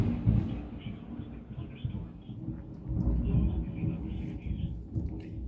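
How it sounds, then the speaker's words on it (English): Thunder from a thunderstorm rumbles low and deep in rolling waves for several seconds, moderately loud, with a faint voice in the background. "Thunder."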